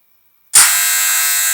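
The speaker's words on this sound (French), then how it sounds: "c'est avec ce petit bip là que j'appuie" A push-button electronic door opener gives one loud, steady high-pitched beep or buzz that starts sharply and holds unbroken, with no talk over it.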